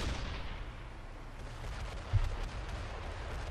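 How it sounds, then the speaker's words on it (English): Cannons fire from merchant ships in the Dragon Quest 11 video game, a low distant boom rolling over steady background noise, with one sharper thump partway through. "The noise of the cannons frightened it away."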